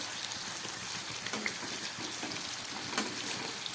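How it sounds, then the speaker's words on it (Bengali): Flat beans frying in hot oil, giving a continuous dense, hissing sizzle at moderate level with faint crackles and small pops scattered through it, and no talk. "থাকা তেলে এইভাবে আমি ভেজে নেব"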